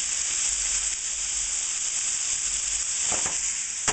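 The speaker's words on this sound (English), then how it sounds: "This is a quick stir fry." Beef, garlic, ginger and summer vegetables sizzling in a hot pan, a bright steady hiss close up with a couple of brief clatters near the end.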